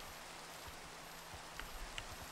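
Rainfall in a horse-ranch video game, a low, even wash of drops with a few faint taps near the end, quiet and unbroken.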